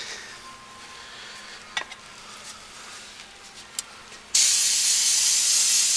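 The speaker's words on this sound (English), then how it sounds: "Now we're using the brake cleaner." Aerosol brake cleaner blasts onto the engine of a 2009 Hyundai Sonata GLS 2.4 during a timing chain replacement. After a few faint clicks and a quiet shop background, a loud, steady spray hiss starts suddenly and runs to the end.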